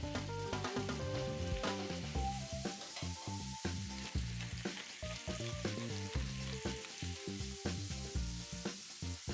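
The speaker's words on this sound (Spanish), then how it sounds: "Y empezamos dorando el pollo." Boneless chicken thighs browning in a pan, with a steady sizzle and stirring, close by, under loud background music.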